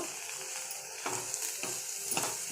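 Sprouted horse gram fries in hot oil with a soft, steady sizzle, broken by a few scraping stirs of a spoon against the pan; fairly quiet and close, with no talking.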